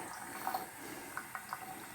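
Distilled water runs into a film developing tank during home black-and-white film processing, giving a faint, steady liquid trickle with a few brief splashy bursts, no voices.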